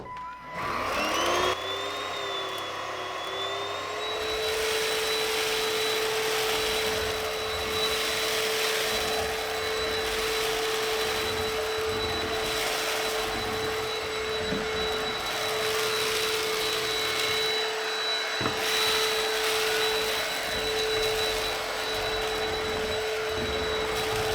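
A Featherweight stick vacuum cleaner switches on and runs for the whole stretch, a loud steady motor whine with a constant high tone and slight swells in airflow as it moves, with no voices.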